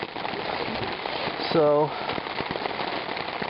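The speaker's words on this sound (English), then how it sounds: "it started to rain, and then it just started coming down" Heavy rain pours steadily during a mountain hike near North Lake, a dense close hiss of drops drumming on surfaces, while a person briefly speaks over it.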